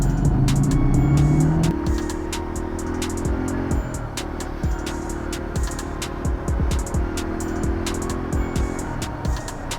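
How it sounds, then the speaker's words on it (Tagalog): Cars accelerating along a wide expressway near a bridge in City of San Fernando, Pampanga, a steady close engine roar with rising tones early on and repeated whooshes of vehicles speeding past. "Bibilis na mga sasakyan."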